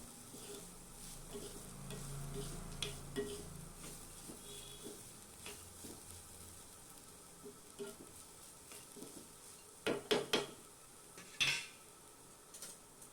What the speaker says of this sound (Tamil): ஒரு கால் கப் அளவு துருவின தேங்காயை சேர்த்து ஒரு நிமிஷத்துக்கு நல்லா பெரட்டி விட்டுட்டு